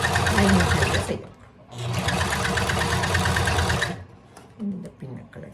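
A sewing machine stitches a garment lining in two loud, close, rapid bursts separated by a short pause, with a voice heard faintly in the gaps near the end.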